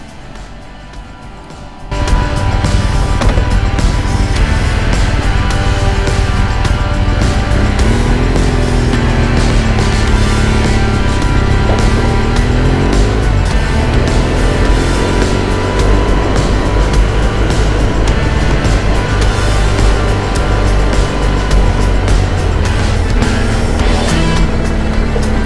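A BMW R1200GSA motorcycle cruises along a road through a small village, its engine and wind roar loud and steady throughout after a quieter opening couple of seconds.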